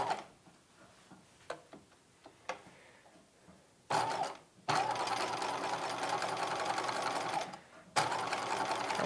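Domestic sewing machine stitching through the lining of a 1950s halter dress: a few faint clicks and taps, then two sustained bursts of close, whirring stitching with a short pause between them.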